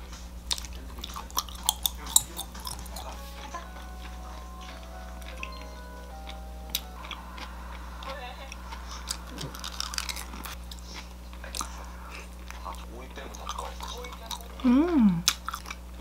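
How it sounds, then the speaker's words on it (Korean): Bocconcini cheese and tomato being chewed close up, with soft repeated bites and crunchy mouth sounds spread across a quiet room tone and a brief voice near the end. "요 보코치니 치즈랑 토마토 같이 먹으면 맛있어요"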